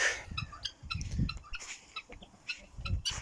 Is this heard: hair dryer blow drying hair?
no